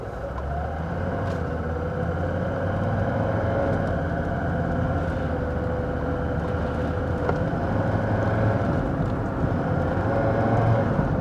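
A Mercedes-Benz S123 300TD diesel drives along with its automatic gearbox shifting, giving a steady, moderately loud engine and road drone that continues without a break and with no talking.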